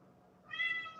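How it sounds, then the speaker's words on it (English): A house cat gives one short, clear meow at close range after a faint quiet moment, rising and then trailing off. "Did you hear when she was meowing at me"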